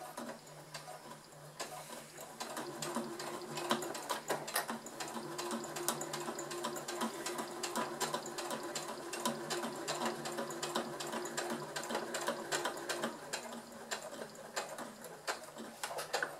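A sewing machine stitches a glasses case, a quiet continuous rapid clatter of the needle that stays even and fairly faint throughout.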